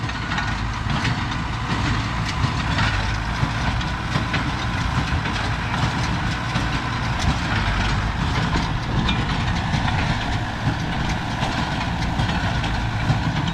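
A steady, loud mechanical drone of a large tractor running a sugarcane leaf baler, with constant low engine rumble and rattling machinery throughout, no voices.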